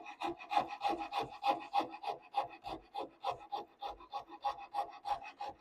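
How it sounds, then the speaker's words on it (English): A hand rasp files a wooden guitar neck blank in quick, rhythmic back-and-forth strokes, about a dozen close, dry scrapes at a steady pace with no voices. "work your rasp in the other direction so that you're not pushing this grain away from the neck blank right here"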